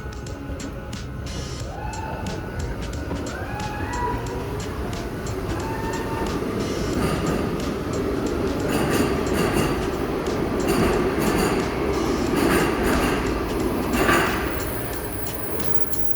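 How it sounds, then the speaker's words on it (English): A Baltimore Metro subway train rolls through an underground station, steady rumble with rhythmic clickety-clack of wheels and occasional squeal, building louder toward the middle before easing off. "I'm going to be taking a train up to Owings Mills."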